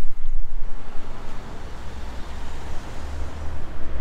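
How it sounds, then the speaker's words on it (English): Road traffic beside a river gives a continuous low rumble of passing cars and heavier vehicles, fairly loud and broadband, with wind buffeting the microphone and no voices. "You've obviously got the noise from the traffic"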